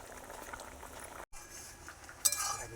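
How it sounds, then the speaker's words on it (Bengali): Mung dal cooking with malabar spinach simmers in a pot, a soft steady bubbling and hiss with a brief gap midway and a sharp metallic clink near the end, no voices. "ডালটাও দেখো ফুটে গিয়েছে, নরম হয়ে গিয়েছে"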